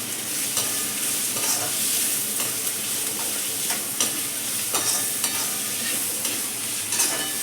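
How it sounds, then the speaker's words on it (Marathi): Capsicum stir-fries in a hot pan for a Chinese-style dish, giving a continuous crackling sizzle broken by regular spatula scrapes and tosses. "मी ना शिमला मिरची टाकून देते शिमला मिरची पूर्ण टाकते"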